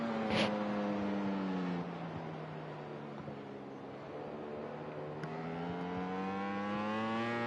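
An Aprilia racing motorcycle at Vallelunga circuit carries a sustained engine note whose pitch dips and then climbs again as it accelerates. Other machines sound around it, with a brief sharp burst near the start.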